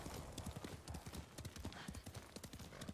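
Horse hooves clip-clop steadily and briskly in Ghost of Tsushima as a mount trots through an old cemetery, the close, continuous hoofbeats joined by an occasional faint whinny.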